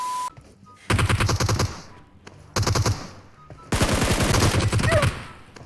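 SCAR rifle fire in a video game comes in three loud rapid bursts of automatic shots separated by brief pauses, with a faint beep between volleys.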